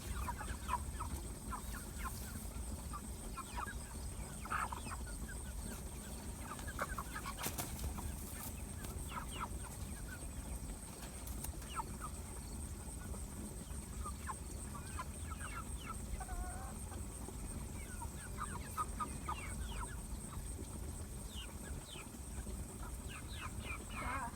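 Chickens clucking softly on a farm, scattered quiet clucks and calls over a steady background hum throughout, with no voices heard.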